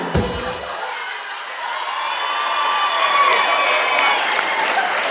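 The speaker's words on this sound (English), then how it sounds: "Round of applause for Stephen Norton, please." Warm, sustained applause with scattered cheers and whoops rises from a convention panel audience at VegasCon 2019 for Stephen Norton, swelling loudly after a brief thump at the start.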